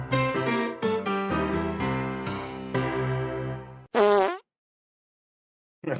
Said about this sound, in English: probably the only thing funny was when the guy farts at the end of that